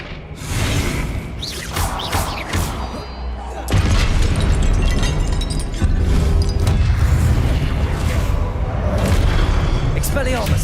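Confringo blasting spell explosions from Hogwarts Legacy, loud booming bursts and whooshes layered with game music and combat effects, with a jump in intensity partway through and voices over the action.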